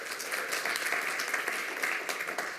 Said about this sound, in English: signal something by doing something like clapping